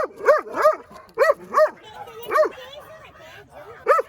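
A dog barks in short bursts, several sharp yips and barks spaced unevenly, close and clear.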